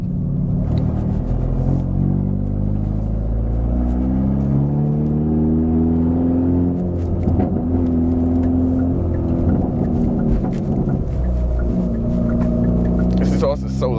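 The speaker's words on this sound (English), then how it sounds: "the frequencies at like low speed driving is like super drony and loud" Hyundai Veloster N DCT with an N75 stage 2 tune driving at low speed, its exhaust a loud, steady, droning rumble with shifting harmonic tones throughout, close and continuous.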